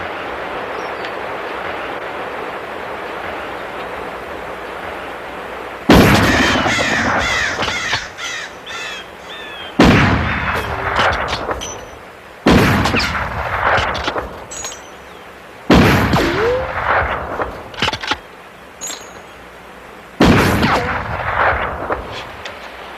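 Several loud, booming rifle gunshots ring out in a 1995 western film, each sharp crack followed by a long echoing decay across open terrain, spaced a few seconds apart with no talking.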